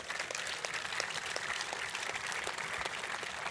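An audience applauds crew chiefs at a warbird airshow featuring P-51B and P-51D Mustangs and a P-39, a dense, steady patter of many hands clapping at moderate distance.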